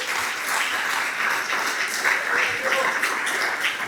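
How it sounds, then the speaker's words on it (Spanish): A church congregation breaks into loud, sustained applause during a sermon, many hands clapping in a dense, uneven patter, with voices and shouts mixed in. "Denle un fuerte ese aplauso al Señor"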